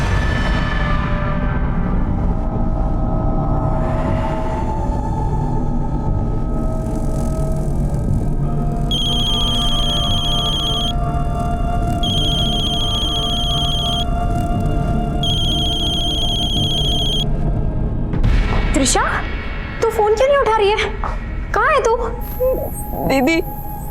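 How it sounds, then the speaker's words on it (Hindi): A telephone rings unanswered in a tense crime-drama scene. Three evenly spaced electronic ring bursts sound mid-clip over a steady, dense background, followed by busier sounds at the end. "माँ बेल तो जा रही है लेकिन फोन नहीं उठा रही है।"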